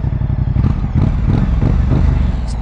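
A 2024 Moto Guzzi Stelvio sits idling close by, its engine and exhaust giving a loud, deep, steady throb with a slightly uneven pulse and a bit of mechanical clatter.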